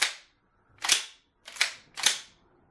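A Franchi Affinity Elite semi-automatic shotgun's bolt slams forward on release, four sharp metallic clacks in quick succession at close range with brief silence between.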